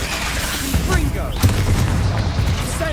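A Confringo fire spell in Hogwarts Legacy bursts in a dense, rumbling blast with repeated booms over constant combat noise, and a voice speaks over the din.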